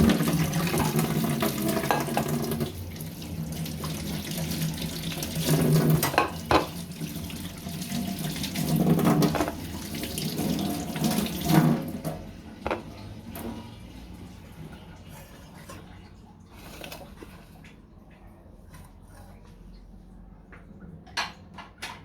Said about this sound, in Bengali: অনেক কষ ধুয়ে নিই।